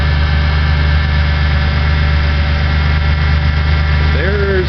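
A rebuilt car engine with a new radiator idles close by in a steady, loud hum with constant vibration throughout, and a brief rising squeak near the end.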